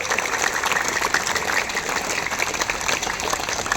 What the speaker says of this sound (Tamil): அது நல்லா தட்டுங்க இன்னொரு வாட்டி.